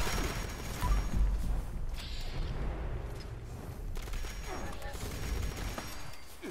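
A Quad Explosive Railway Rifle fires in the video game Fallout 76: scattered bursts of explosive gunfire and booming impacts, moderately loud, heard among faint game sounds.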